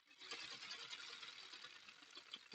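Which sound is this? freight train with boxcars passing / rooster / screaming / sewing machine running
sewing machine running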